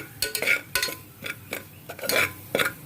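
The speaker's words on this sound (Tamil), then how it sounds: "ஸோ இதை நல்லா வறுத்துக்கணும்." Masala powder is stir-fried in oil on a low flame for Dindigul Thalappakatti-style seeraga samba mutton biryani. A spoon scrapes and clinks against the pan in short, uneven strokes, and a faint sizzle sits beneath them.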